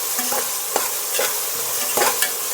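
Sliced onions with a little salt shallow-fry in oil for Andhra-style bagara rice, a continuous close sizzle broken by several scraping stirs of a spoon against the pan.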